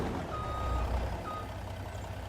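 A truck in the video game Farming Simulator 25 sounds its reversing alarm, giving repeated evenly spaced beeps over a low engine rumble, moderately close and with no voices.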